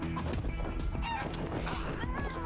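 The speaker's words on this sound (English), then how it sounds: "Chicken." Chicken in the Wasteland 3 video game, with short clucks and squawks over a dense, busy background of game combat noise, fairly faint in the mix.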